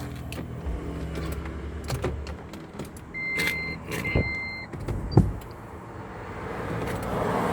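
Electric side mirrors folding on a 2011 Toyota Prius: a pair of short whirring motor runs, one after the other, with switch clicks and a few louder clunks around them.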